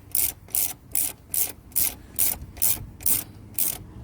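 A battery cable terminal on a car battery is tightened with a ratchet in quick, even bursts of clicking, about nine strokes in a row, close and clear with no talking.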